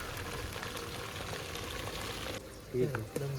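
Onion, tomato, chili and ginger-garlic paste fry in hot oil for a paneer gravy cooked outdoors. A steady sizzle fills the first part, then quietens as a voice speaks close by.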